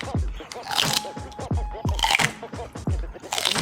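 Crunchy celery bitten and chewed up close, with several sharp crisp crunches in a loose rhythm and voices talking between and under them.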